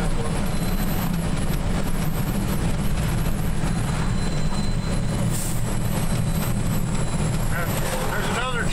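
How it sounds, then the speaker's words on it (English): Coal train cars load at the Oxbow mine area near Paonia, Colorado, a steady low rumble of rail wagons and machinery under someone talking. "There's another train loading up just two trains."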